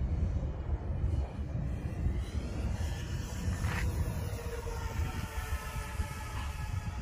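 An electric-powered General Hobby B-17 Flying Fortress RC model airplane with a 1875mm wingspan is flying overhead, its motor drone blending into steady broadband wind-like rumble. There are no voices.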